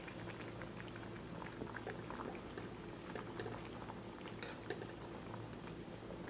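Avoli fish curry simmering in a pan on a Kerala stove, a steady low bubbling with scattered soft pops and ticks throughout, fairly quiet and unbroken, with no voices over it.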